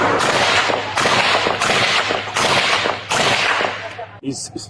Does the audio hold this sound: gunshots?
yes